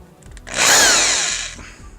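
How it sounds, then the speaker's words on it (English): A 1/2-inch Chicago Electric power drill bores through material during handlebar replacement work on a Ninja 300 street bike: one loud, sustained whirring burst of about a second that winds up and then tapers off. "1/2 inch Chicago electric power drill."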